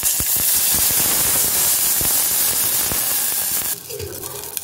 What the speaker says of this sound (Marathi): यात आता मी आपला धुतलेला राईस ऍड करणार आहे